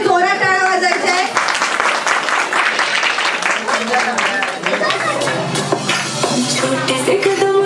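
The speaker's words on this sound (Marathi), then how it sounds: "सगळ्यांनी जोरात टाळ्या वाजायच्या आहे" Loud, continuous applause from a crowd of guests at a traditional Marathi baby shower (dohale jevan), steady clapping that fills the whole stretch with music and voices mixed in.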